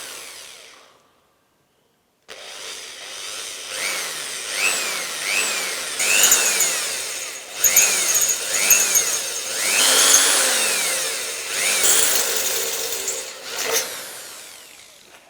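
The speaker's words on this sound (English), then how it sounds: "I'm going to drill a hole of 5 millimeter" A drill boring a 5 millimeter hole into punched metal for a rivet joint, with a grinding whine that rises and falls in repeated sweeps after a short silence, close and fairly loud.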